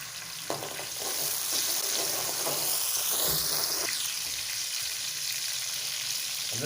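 Browned onion and ketchup paste sizzle steadily in a pan, with scraping stirs and a rising hiss partway through, close and loud, with no talking.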